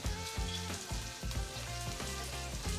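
Nduja meatballs browning in a hot pan give a steady, close sizzle and crackle of rendering fat, with soft bumps as they shift, no voices present.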